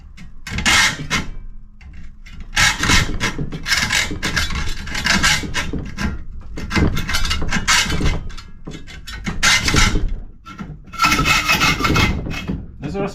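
A saw cuts a copper rod for a replica Willys Jeep aerial whip, heard as loud, close, irregular rasping strokes in uneven bursts with brief pauses and some clattering handling.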